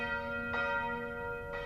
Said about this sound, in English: As the bell sounded the hour